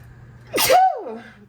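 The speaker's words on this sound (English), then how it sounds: "I think I gotta sneeze." One close, loud human sneeze, a short sharp inhaled catch bursting into an explosive breathy release that trails off, recorded indoors with no talking.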